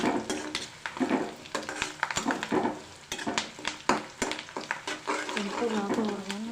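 Onions fry in a pan on the stove and are stirred with a utensil, giving close, uneven scraping and sizzling bursts throughout with a voice talking over them.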